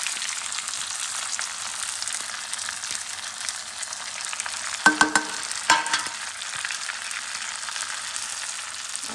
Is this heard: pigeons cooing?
no